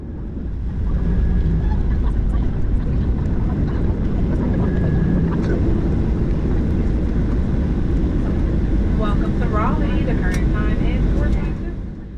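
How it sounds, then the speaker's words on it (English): Avelo Airlines airliner taxiing to the terminal after landing, a steady broadband engine rumble and cabin roar running throughout, with faint speech underneath and short tonal chirps near the end. "Once on the ground, we taxied our way to Terminal 1"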